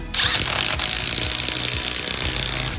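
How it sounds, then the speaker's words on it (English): A power drill drives wood screws to fix a ceiling fan bracket to wood, a loud steady whir that runs continuously from just after the start to the end. "I'm installing the fan bracket directly to the wood with these wood screws."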